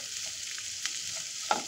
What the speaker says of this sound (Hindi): प्याज को अच्छे से भूनते हैं कि वो कच्चापन उसका निकल जाए।